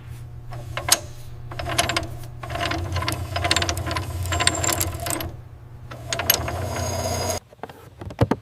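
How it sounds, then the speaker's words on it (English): An AH-64 Apache helicopter gun mount runs a test elevation and traverse on the factory floor: a steady, high-torque motor whine under bursts of mechanical clicking and ratcheting that cut off sharply near the end. "It then performs a test elevation and traverse, moving with a high torque whine that signals its readiness for combat."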